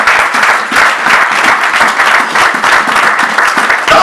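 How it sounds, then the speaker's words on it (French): A church congregation applauds for Jesus during a lively service, a loud, dense burst of clapping that fills the room without a break. "Acclamez pour Jésus."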